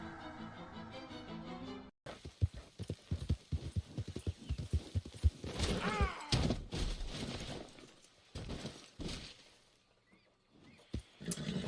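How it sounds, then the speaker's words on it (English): Horse hooves clip-clop at a steady gallop in a video game, loud and close, with a brief pause, a faint whinny-like call and some rustling clatter, and no talking. "New horse."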